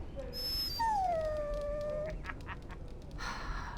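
A dog in Dragon Age: Origins gives a long, drawn-out whine, a high plaintive tone sliding downward, clear and close over a faint ambient background with scattered soft sounds afterward.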